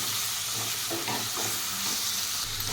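Chopped tomatoes and water amaranth leaves stirred and mixed in a hot pan, a continuous sizzle and hiss with scraping strokes of the spoon close by, no talking.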